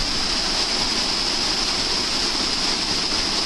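Roaring waterfall cascading in a canyon during a canyoning outing at Léoncel, a steady loud broadband rush of falling water filling the whole moment with no voices.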